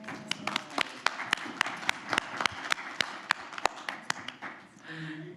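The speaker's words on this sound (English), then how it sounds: "Let's applaud Roger." A small meeting audience applauds Roger, a county and state fair garlic grower, with sparse, distinct claps in an irregular patter that thin out and end, moderately quiet in a room.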